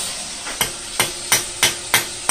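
A hammer strikes metal in five sharp, evenly spaced taps, close and ringing, over a steady hiss, while forging a small painting hammer for rivets.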